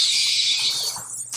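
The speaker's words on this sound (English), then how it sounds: "Oh, the bats are here." Bats screech in the survival video game Stranded Deep: a dense, steady high-pitched chattering wash that holds for over a second, then thins out and fades near the end.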